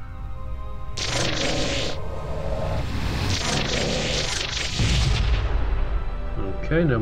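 Heavy cannon blasts in a sci-fi video game battle, a series of loud booming bursts with rumbling low-end tails, overlapping mechanical noise and brief voice fragments throughout.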